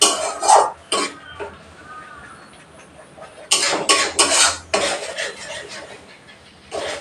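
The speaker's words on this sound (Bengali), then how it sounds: "হাফ টিস্পুন হলুদ গুঁড়ো আর আন্দাজ মতো নুন অ্যাড করে" Prawns being mixed with turmeric powder and salt in a bowl, giving close, intermittent bursts of wet squelching and scraping with quiet pauses in between, no voices.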